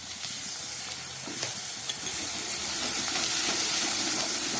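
Paste of ginger, garlic, onion and green chilli sautéing in hot oil for an egg curry, giving a steady close sizzle and hiss that builds slightly, with faint stirring scrapes and no voices.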